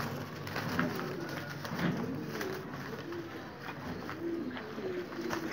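Green pied pigeons give soft, repeated low coos in a gentle rhythm, quiet and fairly close, over faint background noise.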